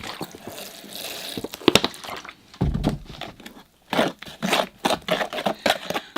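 Cement is stirred with water into a runny mix for casting a bonsai pot mold, with close, irregular bursts of wet sloshing and scraping strokes separated by short pauses.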